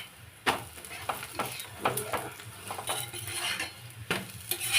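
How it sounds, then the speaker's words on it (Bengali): Aloo paratha in a pan, with repeated metallic clinks and scrapes of a utensil over a low background sizzle, irregular and close. "এইভাবে বাকি পরোটাগুলো ভেজে নিতে হবে।"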